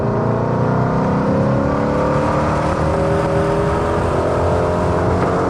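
A race car engine climbs steadily under hard acceleration on track, a loud, close, continuous whine with harmonics rising in pitch throughout.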